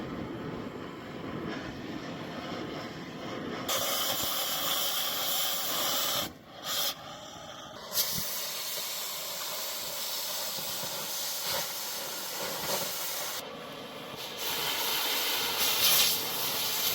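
A cutting torch burns through the broken axle of a mechanical rock picker, a loud continuous hissing roar that cuts out briefly a few times and restarts, heard up close with no talk.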